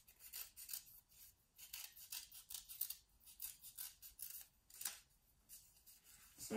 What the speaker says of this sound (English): So you're going to cut out a circle.